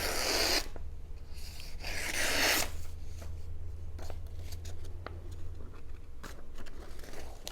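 An Eafengrow EF161 fixed-blade knife slices through a sheet of paper: two rasping, papery cuts close to the mic, each lasting under a second, followed by quieter faint scrapes and handling noise.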